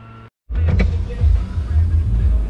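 Steady low engine and road rumble from a car cruising along, loud and continuous after a brief drop to near silence at the start.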